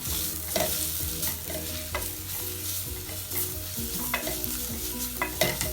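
Garam masala, turmeric and pepper stirred in a hot oiled pan, a spoon scraping in repeated strokes over a steady sizzle of frying, close and clear with no talking.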